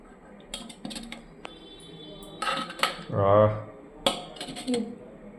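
Steel plates and serving utensils clink and clatter in scattered, close bursts as food is served at home, with a voice talking between the metallic knocks.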